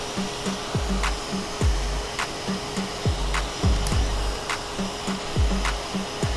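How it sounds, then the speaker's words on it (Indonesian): A small fan inside an egg incubator run by an STC1000 thermostat controller whirs steadily and close by, with a rhythmic ticking or clicking repeating about every half second throughout. "kipas berputar."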